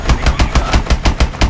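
Rapid automatic gunfire in Call of Duty Advanced Warfare, a tight, loud burst of about nine evenly spaced punchy shots in quick rhythm.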